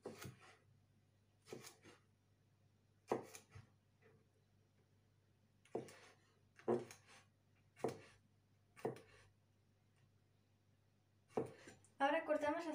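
A knife chops peeled garlic on a board in a quiet kitchen, giving about ten separate crisp knocks at an uneven pace, with a low steady hum underneath and a short burst of sizzling at the end.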